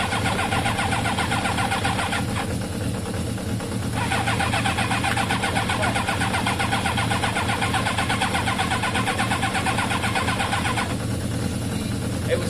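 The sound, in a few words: Kawasaki ZL600 motorcycle engine being started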